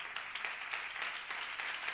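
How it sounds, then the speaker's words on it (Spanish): Steady applause from a church congregation, soft and fairly distant, continuing evenly throughout. "Si le dan un aplauso, dárselo fuerte porque Él se lo merece."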